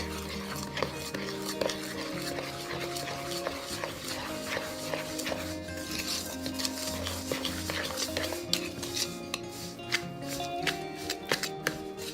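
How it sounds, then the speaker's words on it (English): A spoon stirs cake batter of milk and vanilla in a bowl, making a continuous rhythmic scraping and clinking against the sides that stays close and steady throughout. "Give that all a really good stir and get it all mixed up."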